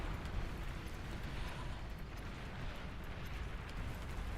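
Explosions from a bombing run in the real-time strategy game Beyond All Reason make a steady, low, rumbling roar of overlapping blasts that sits fairly quiet and unbroken throughout.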